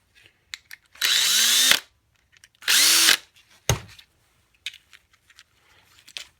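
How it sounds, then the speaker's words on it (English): A power drill loosening screws on a vacuum cleaner plug whirs in two short bursts with a rising motor pitch, followed by a clunk and a few light taps and clicks. "Take a drill."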